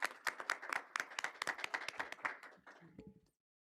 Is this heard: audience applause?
yes